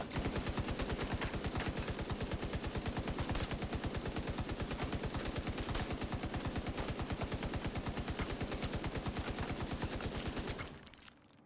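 Rapid, sustained automatic fire from an M60 machine gun in the video game Division 2, a dense unbroken stream of loud shots lasting about ten seconds before cutting off abruptly.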